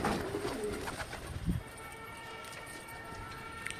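A pigeon coos briefly near the start amid outdoor background noise, with faint distant sounds afterward.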